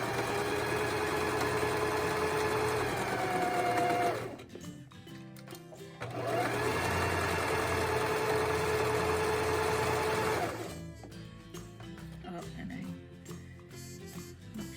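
A sewing machine stitches a narrow sleeve hem close to the edge in a circle, running in two steady buzzing bursts separated by a pause, with a voice talking over it at times.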